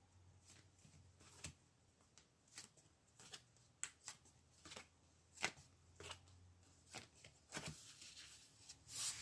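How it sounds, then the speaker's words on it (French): Tarot cards being shuffled close by, quiet, with a run of soft riffling slaps and taps at irregular intervals and no speech. "Donc on peut essayer de tirer des cartes sur ce déplacement voyage."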